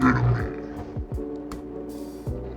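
A voice run through a V8 soundcard voice changer on its monster effect, coming out as deep, growling roars and gravelly syllables, close to the microphone.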